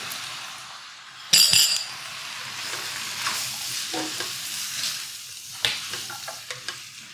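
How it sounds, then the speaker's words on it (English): Thai drunken noodles sizzle in a hot pan while a utensil stirs and scrapes through them, a loud scrape and clink early on, then steady frying with intermittent stirring knocks, no voices. "We're gonna go ahead and put our noodles in here."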